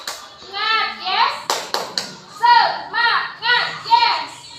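Schoolchildren in an Indonesian classroom chant a spirited clap cheer together, their young voices rising and falling in short rhythmic bursts punctuated by a few sharp, close hand claps in quick succession.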